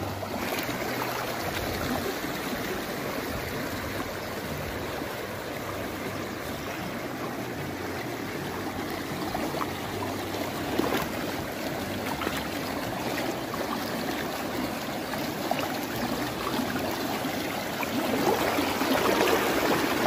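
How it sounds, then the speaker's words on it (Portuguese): Water from a reservoir spillway rushes steadily through a knee-deep shallow stream, a constant close broadband wash of flowing and splashing that swells slightly toward the end, with no voices. "Essa é a água que vem do sangrador do açude da Nação, que passa pelo segundo açude e está chegando aqui"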